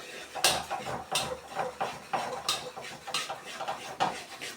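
Mysore Pak sweet mixture is stirred in a pan, with repeated scraping strokes and light metallic knocks of the spoon against the pan in a loose, steady rhythm.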